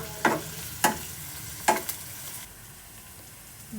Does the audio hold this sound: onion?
yes